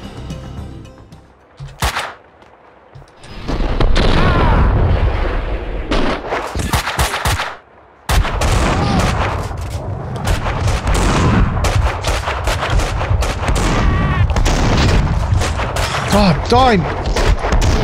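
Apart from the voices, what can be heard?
shotgun fire in the video game Max Payne 2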